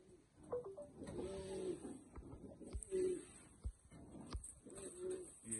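Sialkoti pigeons for sale in Faisalabad coo softly, giving several low repeated calls at close range that are faint and broken by scattered clicks.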